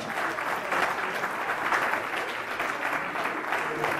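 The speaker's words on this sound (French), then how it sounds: "On peut l'applaudir aussi, ainsi que le PAC." An audience applauds a young artisan at a carnival poster unveiling, with moderately loud, continuous clapping from a gathered crowd that holds steady throughout.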